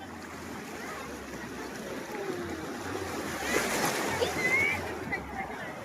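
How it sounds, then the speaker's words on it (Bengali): Sea waves roll and wash onto the beach at Digha on a crowded, brightly lit evening, a steady surf roar that swells midway, with faint voices in the background. "দারুণ ঢেউ,"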